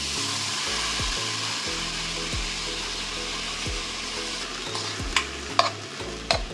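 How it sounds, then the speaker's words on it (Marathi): Lentils (dal) being stirred and cooked in a pan for a sweet Naag Panchami dind filling give a loud, continuous scraping stir with a low bubbling sizzle, a few sharper knocks toward the end, no voices. "आता आपण डाळ शिजवून घ्यायची आहे। याच्यामध्ये आता आपण डाळ टाकूया।"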